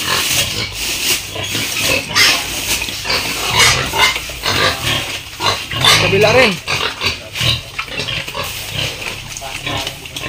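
Several pigs grunt and snort nearby in a pen, irregular and overlapping, while people talk over them.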